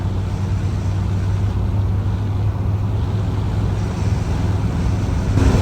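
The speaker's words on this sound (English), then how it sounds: "this car, she got her fair share of rattles, wind noise" Interior road noise from a 1966 Chevy Caprice on the move, a steady low engine and tire rumble with wind rushing over the body and faint rattles, loud and continuous throughout with no talk.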